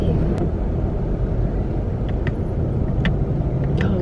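Steady rumble of car traffic, continuous and fairly loud, with a few faint high clicks over the engine noise.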